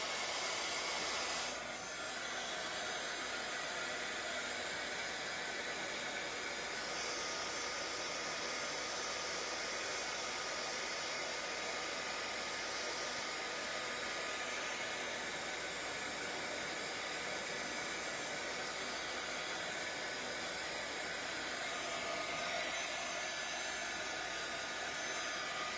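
Hair dryer drying craft materials, a continuous loud blowing whoosh holding steady throughout with no voices.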